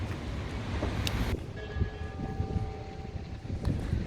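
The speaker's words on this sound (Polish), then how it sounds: "I dzwony biją dla nas." Church bells ring in Wrocław on New Year's Eve with sustained, overlapping tones over a busy outdoor crowd hum, a few clanks standing out.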